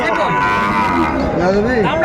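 A long, drawn-out moo from a bull at a cattle market in Dinajpur, close and loud, rising and falling in pitch for about two seconds with no talking.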